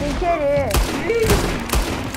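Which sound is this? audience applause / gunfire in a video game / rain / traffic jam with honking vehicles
gunfire in a video game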